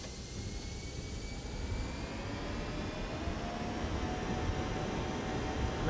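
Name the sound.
Airbus A321 jet engines at TOGA thrust, X-Plane 11 game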